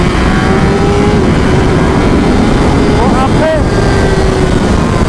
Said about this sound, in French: En fait, c'est juste une vraie moto de course.